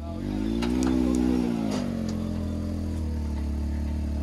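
A Can-Am Maverick quad revs hard during a front-wheel-drive burnout. A loud, close engine note climbs and then falls over a steady deep drone that keeps going to the end.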